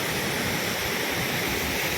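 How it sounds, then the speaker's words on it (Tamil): Athirappilly waterfall pouring down in two branches, a loud, steady, broadband roar of falling water, close and continuous, with no voices. "அதிரம்பள்ளி ஃபால்ஸ் இது 2 பிரான்ச்சில் தண்ணி வருது."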